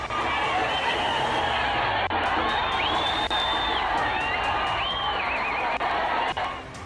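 A dense festive crowd packed into a narrow lane between houses, people cheering, whooping and shouting continuously as they throw things at one another, with loud, steady roar of many voices close around and no clear breaks.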